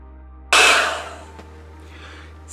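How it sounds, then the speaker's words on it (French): A rotating-brush hair dryer switches on abruptly and runs with a loud, steady rushing airflow while drying hair, easing slightly in level, with a faint click partway through and no talk. "moi je vais sécher mes cheveux avec cette brosse rotative"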